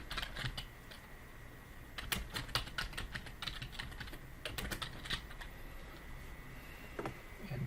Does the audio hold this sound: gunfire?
no